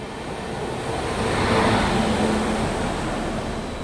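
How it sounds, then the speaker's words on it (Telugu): An Amrit Bharat Express train rolls along on its first run, its steady broadband rumble and rushing noise filling the space continuously, swelling slightly in the middle. "మన ట్రైన్ ఏదో ప్రాబ్లం రెక్టిఫై చేసి ట్రైన్ ముందుకు తీసుకెళ్తున్నారు"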